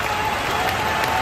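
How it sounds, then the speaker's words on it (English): A wrestling crowd at a Kenny Omega match fills the air with loud, continuous applause and cheering, a dense roar of clapping from a large audience throughout. "Once again, that crowd was firmly behind Kenny Omega."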